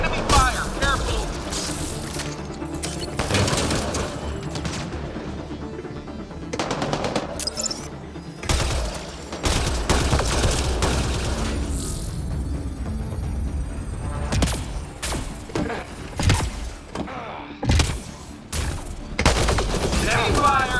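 Heavy gunfire in Mass Effect Andromeda rattles in dense bursts of rapid shots and booming impacts, close and loud, with short game voice barks mixed in.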